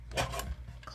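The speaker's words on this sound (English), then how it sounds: "I'm going to use my trimmer here, just real quick. Trim that down." A paper trimmer slices through cardstock in one quick, brief rasping stroke, close and faint.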